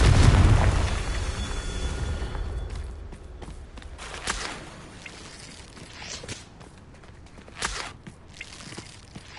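Confringo spell explosion in the video game Hogwarts Legacy: a loud, booming blast at the start that decays into rumble, followed by a few smaller pops and bursts scattered over the quieter remainder.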